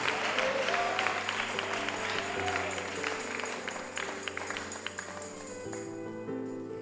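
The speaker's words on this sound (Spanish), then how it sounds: "Démosle un aplauso al Señor." A church congregation applauds. The clapping is moderate and steady over a sustained instrumental backing of organ or keyboard tones, and it fades toward the end as the music continues.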